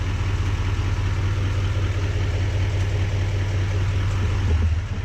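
An L5P Duramax diesel pickup truck engine runs steadily on a dyno, giving a loud, constant low rumble with a deep idle-like drone and no talking.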